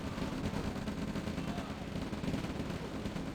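Dense gunfire from a Red Alert real-time strategy battle in OpenRA rattles as rapid overlapping bursts, steady and fairly loud throughout.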